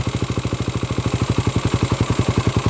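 A Honda TMX125 motorcycle, converted to 200cc with Raider 150 parts, idles close by with a steady, rapid, even thumping beat and a light mechanical clatter, no voices over it.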